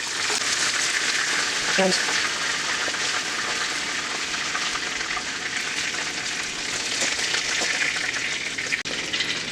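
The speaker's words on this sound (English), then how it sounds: "We are going to double fry these, which should give it an extra crispy." Food sizzles steadily in hot oil during a second frying for extra crispiness, Cajun-spiced, a dense continuous crackle close up with a brief spoken word.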